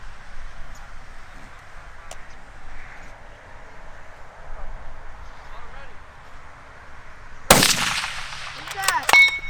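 A precision rifle fires at a ranch shooting match: after a quiet outdoor stretch, one sharp, loud report rings out with a trailing echo, followed by fainter clicks.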